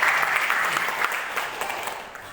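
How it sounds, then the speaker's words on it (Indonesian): Men at a church commission retreat in Depok give a lively round of applause, a dense wash of clapping that starts strong and slowly eases off over a couple of seconds, heard alone without talk. "Kita tepuk tangan yang meriah."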